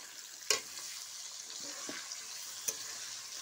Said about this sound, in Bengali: ভাজা হয়ে যাবে লাল লাল করে